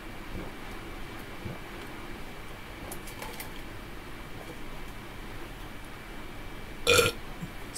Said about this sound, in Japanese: 麦茶飲んでゲップするやつ何？